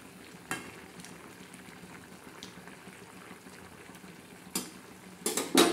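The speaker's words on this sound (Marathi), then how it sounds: "थोडीशी असे हलवून घेऊ, खालचे वर करू, म्हणजे सर्व शिजल्या जाईल." A spoon scrapes and turns cauliflower curry cooking in a pot on the stove: a few brief, separate stirring clatters over a soft, steady simmer, with a busier burst of scraping at the end.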